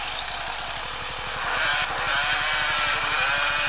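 A police motorcycle fitted with a racing exhaust in a video game, a steady close engine drone with rapid regular low pulses that swells slightly louder midway, with no talking over it.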